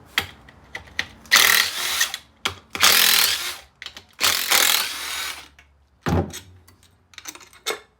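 Power ratchet driving out 10 mm stator cover bolts on a Polaris Ranger 700 engine during teardown, three loud whirring bursts separated by clicks and handling clatter, no talk.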